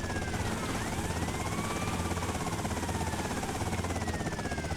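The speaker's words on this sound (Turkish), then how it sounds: "Şimdi bu helikopteri böyle koyduk." A Sparrow helicopter in GTA Vice City Remastered gives a continuous, steady rotor and engine drone that stays close and level the whole time, with no talk over it.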